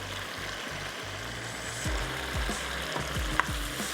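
Capsicum fries with masala pasta on high heat, a continuous loud sizzle with steady stirring and scraping in the pan, no talking.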